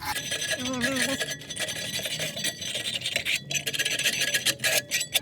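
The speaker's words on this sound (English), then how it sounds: "we're gonna try to clean our caliper as much as we can" Rasping scrub on a brake caliper from a 2005 Honda CR-V, cleaned during a brake pad replacement; steady, close, fairly loud rubbing and scraping, uneven strokes running throughout with no talking.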